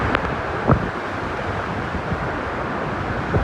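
Krimml waterfall in Austria roaring as a steady, dense wash of falling water with wind buffeting the microphone, loud and close, with no talk.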